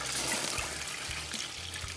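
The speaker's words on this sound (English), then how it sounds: "put some water in this pot, and let these boil again till they get tender" Water runs into a cooking pot of green beans and potatoes in a home kitchen, a steady close trickle and splash with faint low clunks underneath, no voice.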